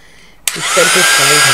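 A hair dryer switches on abruptly and blows steadily with a loud, broad whooshing roar; a voice speaks briefly just before it starts.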